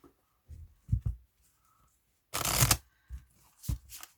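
Oracle cards being shuffled and drawn by hand: soft taps and slides, then one brisk riffling burst of shuffling, followed by a few lighter flicks of cards, close and quiet.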